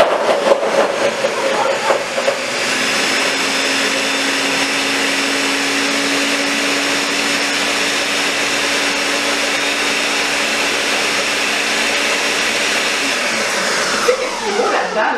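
A blender whirs loudly and steadily for several seconds while blending a smoothie, then winds down at the end.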